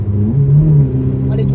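A 1996 Peugeot 106 Rallye, about 950 kg with 103 horsepower, revs its engine in a short, loud, close surge from inside the car, a droning tone rising and holding with a voice speaking briefly.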